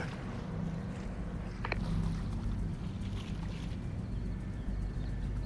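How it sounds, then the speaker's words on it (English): A boat in a video game, steady low engine or water drone running throughout at moderate level, with a brief faint chirp partway through and no talking. "I hear the boat, so I'm waiting for the boat to come back."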